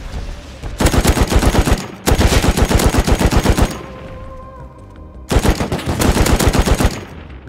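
SAM turrets in Rust fire on players in three long, rapid automatic bursts separated by short pauses, loud and close, with a quieter hum between bursts.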